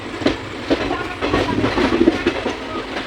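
A train pulls out of Bandel station at night with a rolling rumble, faint clicks and hiss, and a few louder clanks rising and falling nearby.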